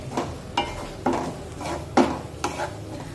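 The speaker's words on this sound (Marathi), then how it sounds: "मिरची चांगली परतून घ्यायची, म्हणजे उपमा खाताना मिरचीचा कच्चेपणा जाणवला नाही पाहिजे" Green chillies stirred and sautéed in a pan for oats upma, with five evenly spaced scraping strokes of a spoon against the metal over a faint sizzle, close and fairly soft.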